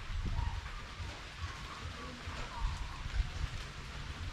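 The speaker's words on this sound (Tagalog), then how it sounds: "lumalakas yung ulan" Heavy rain that keeps building, pouring steadily outdoors on a farm over a tarp. It makes a dense, continuous wash of noise with a low rumble underneath and no break through the whole stretch.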